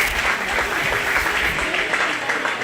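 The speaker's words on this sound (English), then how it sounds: "Let's give a big round of applause to our Class 2 participants." Spectators clap at a county fair show ring after a livestock class, a moderately loud, steady round of applause from a modest crowd, with some murmured voices underneath.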